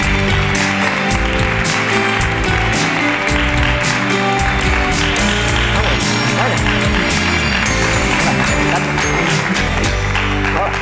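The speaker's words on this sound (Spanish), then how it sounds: "Un aplauso para Juan." A television talk-show studio audience applauds loudly over upbeat show music. The clapping is thick and continuous, with crisp hand claps running across the full stretch.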